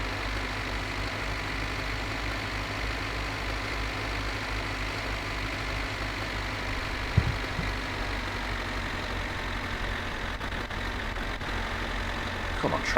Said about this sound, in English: Come on, tractor, you can throttle on the way back up there.